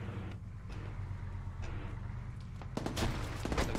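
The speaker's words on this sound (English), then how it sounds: "I'm getting shot left side." Gunfire in the Arma 3 military video game crackles as scattered shots over a low vehicle rumble, then a sharp flurry of louder, close bursts erupts toward the end.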